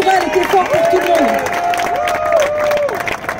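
A rally crowd supporting striking hotel chambermaids applauds and cheers, loud clapping mixed with raised voices and a babble of shouts, close and continuous with no pause.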